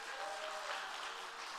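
Church audience at a Christmas celebration evening applauding children on stage, a brief burst of dense clapping heard from a distance at low level.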